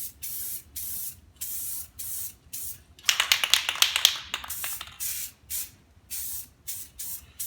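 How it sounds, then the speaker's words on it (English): Spray paint hisses onto a dry deer skull as a base coat, outdoors in chilly air: a string of short bursts, then a longer stretch of rapid rattly spurts, then more short bursts, close and fairly loud. "what I want to do now is to give it a base coat so that the colors stand out a little better"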